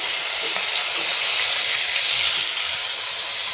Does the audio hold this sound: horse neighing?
no